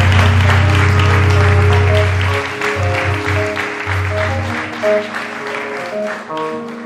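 Audience applause at a certificate ceremony, a steady crowd clapping that runs through the whole stretch, with sustained tonal music sounding underneath and easing slightly in the second half.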